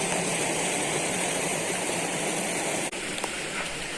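Heavy monsoon water pours steadily down a waterfall in a Konkan forest, a dense, continuous roar of rushing flow that stays loud and unbroken throughout.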